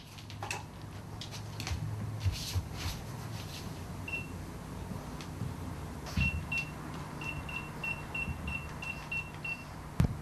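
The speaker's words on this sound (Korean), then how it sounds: "휴대전화에서 알람이 울리자" A mobile phone alarm beeps in a quick series of short, thin tones over steady background hum and faint car noise, moderately close.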